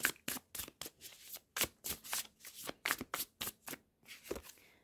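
Tarot cards being shuffled by hand, a rapid run of crisp riffling and slapping bursts in an irregular rhythm, close and fairly quiet, with no voices.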